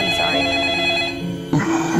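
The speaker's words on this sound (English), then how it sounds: "as soon as it's over, your phone rings" A telephone rings in a comedy movie trailer with repeated electronic tones, fairly loud and close. A second burst of ringing starts midway.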